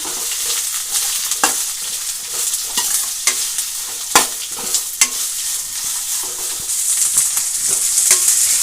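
Green chilies and onion fry in hot oil for a fenugreek greens dish, a steady bright sizzle broken by repeated sharp scrapes and taps of a spatula stirring through the pan, close and loud with no talking.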